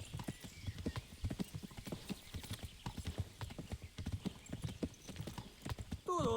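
Horse galloping in the video game Kingdom Come: Deliverance, a steady rapid clip-clop of hooves with occasional snorts, close and loud throughout, ending in a brief burst of other game sound.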